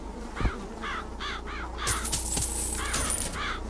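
Crows caw in the video game BioShock Infinite, several harsh repeated calls in short bursts, fairly close, with a brief rustle and a higher shimmering tone partway through.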